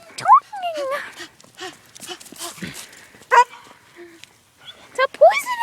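A dog gives short, high yips and bark-like cries, spaced out and fairly close, mixed with people talking.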